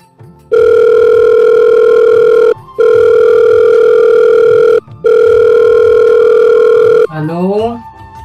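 A telephone call to a mother rings out as loud, steady tone bursts separated by short gaps, three long pulses in a row before the line changes to a warbling signal.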